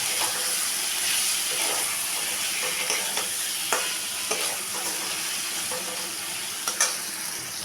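Grated paneer being stirred into a spiced masala in a hot pan for a vegetarian potol curry: a steady sizzle and hiss with soft, irregular scraping strokes of the spoon, close and continuous.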